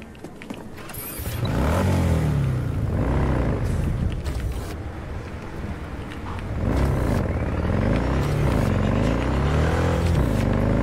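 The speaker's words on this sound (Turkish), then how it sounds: "Bu motorun sesi de en güzel ha." A car engine in the video game Cyberpunk 2077, a Soviet-built car, revs repeatedly in loud rising and falling sweeps with mechanical whine and creaking over about eleven seconds, without speech.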